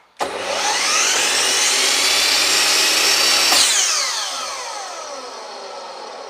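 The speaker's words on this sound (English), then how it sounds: "I just plugged my 12-inch Makita chop saw into this, and I wanted to see what it's going to do." A 12-inch Makita chop saw spins up sharply to a loud, steady high-pitched whine, holds for a few seconds, then is released and winds down with a falling tone.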